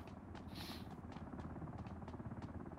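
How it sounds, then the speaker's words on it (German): A helicopter in the video game Ring of Elysium thumps with a steady, rapid rotor chop, faint and distant but clearly pulsing throughout. "Der Hubschrauber kommt."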